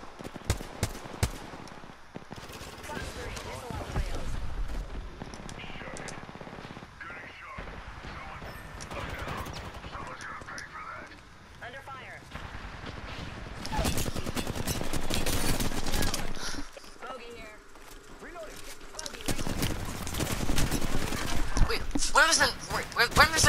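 Gunfire in Apex Legends arena combat, scattered bursts and single shots recurring across a long stretch, some near and sharp, others distant, mixed with game effects and frequent talk from players.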